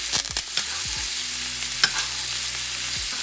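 Duck breast frying in a pan with thyme, a steady close sizzle and crackle with a few soft stirring and scraping sounds.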